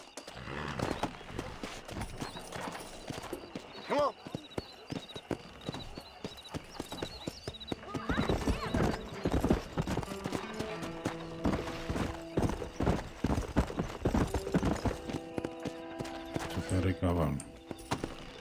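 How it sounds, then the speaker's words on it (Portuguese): Horse galloping in the Wild West video game Red Dead Redemption on PC, with steady clip-clop hoofbeats repeating close and loud throughout, mixed with game sounds and talking voices. "Pegar meu cavalo aqui."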